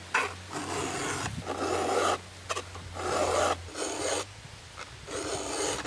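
A hand file rasps across chainsaw chain teeth held in a small vise, in steady repeated strokes of about a second each with short pauses between them, close and fairly loud with no talking.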